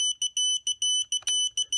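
A buzzer on a 120mm brushless FPV racing drone kit, set active by the arming switch, beeps in a rapid run of short tones of uneven length, loud and close, with a brief clatter partway through.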